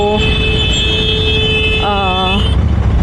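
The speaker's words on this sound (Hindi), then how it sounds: "ट्रैफिक" Busy Mumbai street traffic heard from a motorcycle ride, a dense steady roar of vehicles with engine drone and a brief tonal horn-like toot rising over the constant noise.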